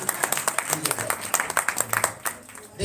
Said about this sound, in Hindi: बजाओ तो ताली